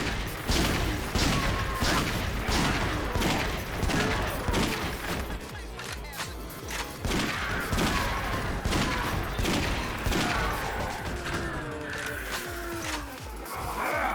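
Rapid pistol fire against zombies in Yakuza Dead Souls, a dense string of sharp shots with crashes and clatter, loud and near, with little talk.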